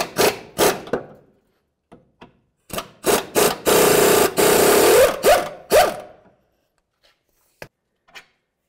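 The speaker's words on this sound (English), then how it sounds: "We'll come underneath with a socket and remove the bolt from underneath." Socket wrench work on a 2007-2012 Nissan Sentra front control arm bolt: a series of sharp ratcheting bursts and scraping turns, some quick and clustered, one longer continuous grind, then a few faint clicks, close and without talk.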